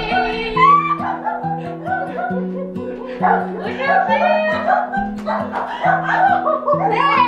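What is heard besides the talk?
dog barking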